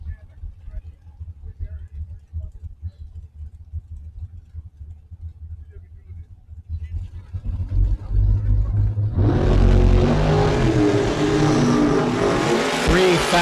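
A dragster launches down a drag strip at a Northwest Independence shootout, its engine building from a low rumble into a loud, sustained roar that holds through the final seconds.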